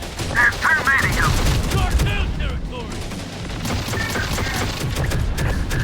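Rapid video-game gunfire rattles in bursts of overlapping shots and impacts, loud and close, with voices talking over the combat throughout.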